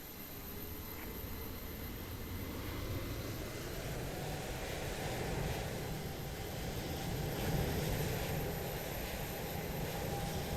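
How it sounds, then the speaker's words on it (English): Simulated airliner takeoff roll in Microsoft Flight Simulator, a Delta-operated flight departing Atlanta: a steady, loud broadband engine roar with a faint whine, building slightly over ten seconds with no talk. "you can hear the takeoff roll"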